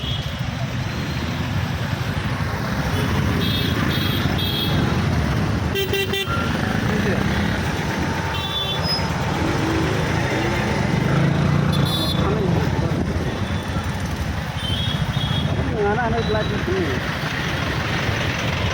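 Nighttime traffic jam at the Kharchi festival, with motorcycles and cars idling and creeping in a dense, loud rumble while several horns toot and honk in short bursts; people talk throughout.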